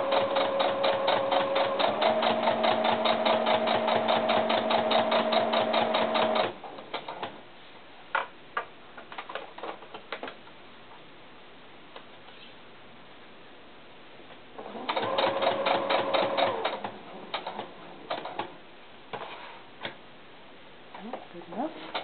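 A sewing machine stitches doll tennis shoes in two fast, rattling bursts of steady ticking, with quieter clicks and handling noises in between and a person talking over it.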